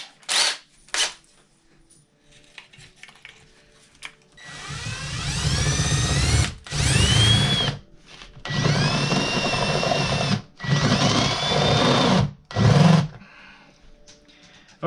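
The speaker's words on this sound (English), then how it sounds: "I drilled most of the way through that." A power drill bores a hole in bursts of several seconds, whining loudly and close with short gaps between runs, after a few brief knocks.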